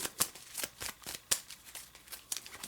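Playing cards from a Resident Evil deck-building game being shuffled, a run of crisp riffling bursts with a few sharper snaps, close and fairly quiet, with no voices.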